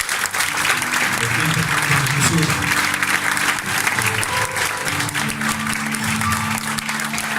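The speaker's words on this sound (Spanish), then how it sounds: "Le damos un aplauso fuerte al Señor." A church congregation claps loudly and steadily throughout, with voices and some organ or keyboard tones underneath.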